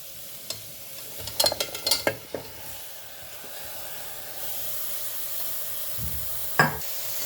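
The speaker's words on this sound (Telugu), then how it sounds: "ఇప్పుడు సొరకాయ వేసుకుందాము. బాగా ఫ్రై కానివ్వమ్మా, ఒక 2 మినిట్స్." Bottle gourd stir-fried in a pan with turmeric: a few sharp spatula scrapes and clatters early on, then a soft, steady sizzle that grows, with another stirring scrape near the end.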